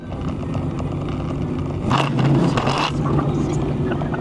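A Ford Mustang with a 408 Clevor engine bogs down on launch, its engine drone steady and close before a rougher, scraping surge about halfway through that fades back to a constant roar.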